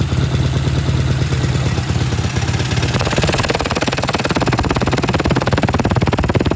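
A vintage British motorcycle engine idles on its first start after idle and mixture adjustment, a close, loud, steady rhythmic chugging with mechanical clatter throughout, with no voices.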